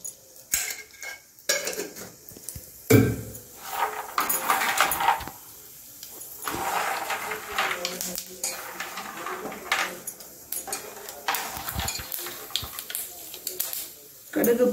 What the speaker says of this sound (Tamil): கடுகு போடுறோம் பாருங்க. பொரியுது கடுகு.